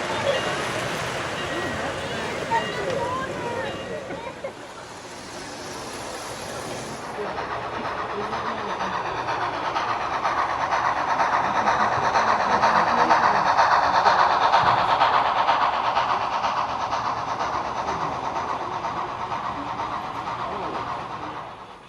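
A model train running steadily on a club layout, with a whirring motor hum and rolling clatter, growing slightly louder midway, with a faint voice in the background.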